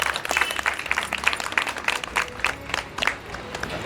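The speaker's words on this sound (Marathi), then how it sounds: "आपण सर्वांनी एकदा जोरदार टाळ्या वाजवून आपलं स्वागत करा." An audience at a Republic Day celebration at a homeopathy clinic claps in a steady, dense patter of many hands, fairly close and lasting throughout without pause.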